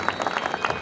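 An audience at a Holi special stage event applauds to welcome Manoj Tiwari, a brief burst of many hands clapping in a dense, rapid patter.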